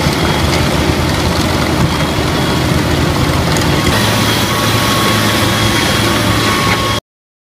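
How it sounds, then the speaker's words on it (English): Roadside cleaning machine engine runs steadily and loudly up close, a dense continuous rumble with a slight change in tone midway, then cutting off abruptly into silence; no talk. "This machine cleans the roadside faster than I clean my inbox."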